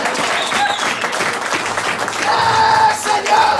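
A church congregation applauds and cheers in acclamation, a steady, dense wash of clapping with voices rising near the end, loud and close throughout.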